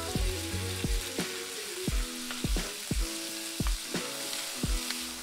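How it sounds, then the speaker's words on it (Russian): Beef sizzles steadily in hot sesame oil, with repeated clanks of a utensil stirring the pan at close range. "Добавляем 2 столовые ложки кунжутного масла. И выкладываем жариться говядину."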